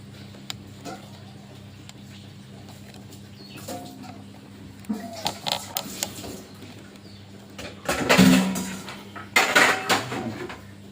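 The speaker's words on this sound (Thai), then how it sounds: "ระหว่างนี้ผมก็จะไปหั่น หนังวัวให้ครับผม" Repeated knife chops and scrapes against a board and metal dishes as boiled cowhide is cut into bite-size pieces, irregular, close, in a quiet room.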